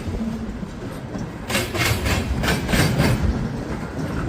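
A Norfolk Southern train rolls by at a new trackside spot on the southwest side of the Toledo area, a steady rumble that swells about a third of the way in with rhythmic wheel clatter, heard alone without talk.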